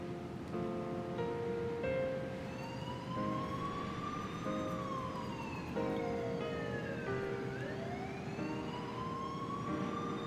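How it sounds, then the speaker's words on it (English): Several police sirens wail at night over Shibuya in 428 Shibuya Scramble, their rising and falling tones overlapping at a distance above a steady low rumble. "In the distance, she could faintly hear the sound of police sirens"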